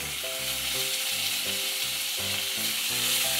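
Pork with lime leaves fries in hot oil in a pan, a steady close sizzle running throughout with soft stirring or shifting of the pieces layered over it, and no talking.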